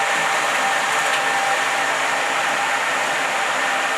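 Large format printer running while printing vehicle wrap panels for a truck's driver's side cab, an arctic camo wrap; a steady, continuous mechanical whir and hiss holds at an even loudness throughout, with no talking.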